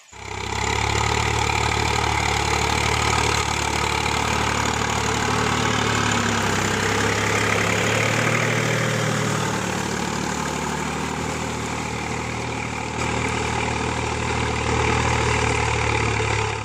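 A farm tractor engine runs at a steady idle, a loud, close, continuous drone with a deep low-pitched throb that holds unchanged from start to finish, with no voices.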